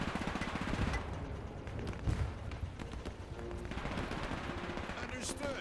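Gunfire rattles through World War combat in the video game Men of War II, with dense bursts and scattered shots continuing steadily across the whole stretch, a sharper report standing out near the middle.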